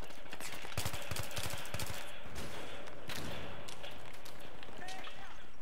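Battlefield 3 combat with sniper gunfire: a dense, loud stretch of rapid shots and bursts keeps going without a break, layered over a busy background of battlefield noise.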